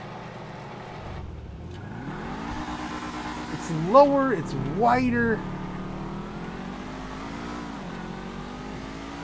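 Dewbauchee sports car engine in the GTA video game revving twice in quick bursts over a steady idle hum, with people talking across the clip.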